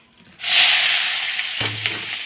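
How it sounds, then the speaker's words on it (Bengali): Onions hit hot oil with a sudden loud hiss, then fry with a steady crackling sizzle, close by, with a brief clatter near the end. "পেঁয়াজগুলো আগে ভেজে নেব লাল লাল করে"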